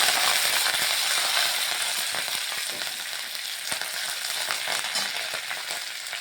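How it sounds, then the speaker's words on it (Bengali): Mustard seeds and curry leaves, added after chillies, fry in hot oil with a steady, dense crackle and sizzle, punctuated by sharp popping bursts as the seeds spit, close and fairly loud with no talking. "ভাজা ভাজা হতে দিচ্ছি। এখানে একটু সর্ষে দিয়ে দিলাম, সর্ষেটা।"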